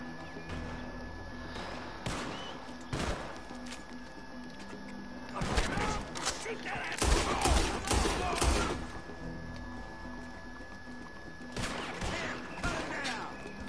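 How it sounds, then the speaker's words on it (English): Gunfire erupts in the Red Dead Redemption 2 game during a town escape with lawmen nearby, scattered shots and volleys cracking over a busy ambient bed, densest and loudest midway before tapering off. "They are shooting at me, aren't they? That's what all the gunfire is."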